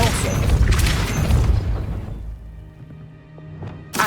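A Depulso spell cast in the Hogwarts Legacy video game lets off a loud, booming blast with a rushing crash that fades over about two seconds into low rumble, then a faint sharp snap near the end.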